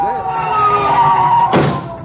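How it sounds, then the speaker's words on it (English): A wailing siren with a steady tone sounds nearby and loud, with a brief burst of noise near the end. "You hear that siren?"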